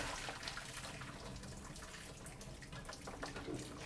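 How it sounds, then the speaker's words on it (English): Noodle cooking water poured out to drain, a steady rushing splash of hot water into a sink, continuous and fairly close. "I'll now turn off the flame and pour out the water."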